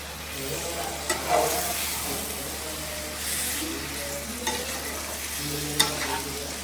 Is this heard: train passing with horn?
no